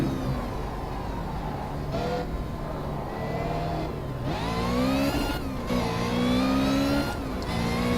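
Ariel Atom 300 engine in Project Cars, revving and climbing in pitch through several gear pulls, a loud close buzzing whine that dips and surges again as the throttle eases on and off.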